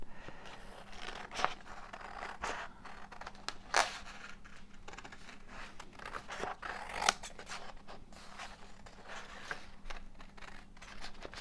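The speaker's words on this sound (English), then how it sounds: "Let's cut round it and fold it so we can put it in place." Scissors snip through paper while a junk journal is being made, a series of short, sharp cuts scattered irregularly over a quiet desk background.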